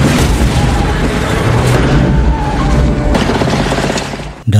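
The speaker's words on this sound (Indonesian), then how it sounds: "bom yang akan meledak" A bomb explosion destroying a bridge: a loud, sustained rumbling blast with heavy low-end roar and crackling debris, continuing steadily before cutting off abruptly at the end.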